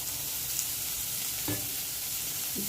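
Onions fry in a pan for an egg curry, a dense, steady sizzle with a couple of soft stirring knocks, close and without voices.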